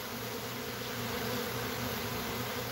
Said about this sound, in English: And then I got two bees on my phone, one on my hand holding the phone